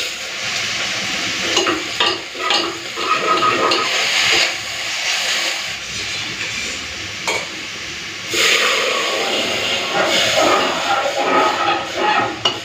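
Dal being tempered with dried chilli, onion, garlic and five spices, a loud, close sizzle and hiss of frying, broken by scraping stirs and surges of steam over several seconds, with no voices.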